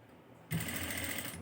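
A sewing machine starts abruptly and stitches piping onto a baby dress neckline, giving a close, steady whirring run of about one second before slowing.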